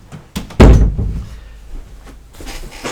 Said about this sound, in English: So let me shut that door right there, lest we be disturbed.